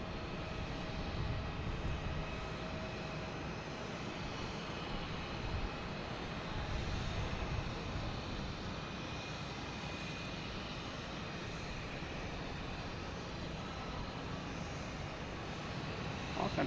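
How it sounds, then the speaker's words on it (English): A British Airways Airbus A380 produces a distant, continuous low engine rumble and hiss at an airport, fairly quiet and steady with slight swells. "A380, British Airways."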